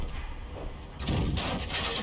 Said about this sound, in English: I think he fired that round at the bushes